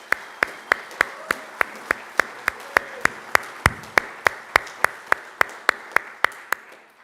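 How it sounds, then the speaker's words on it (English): A single pair of hands claps in a slow, steady rhythm of about three claps per second at an apprenticeship graduation ceremony, crisp and fairly close, with a quiet room behind it. "So let's give him one more round of applause."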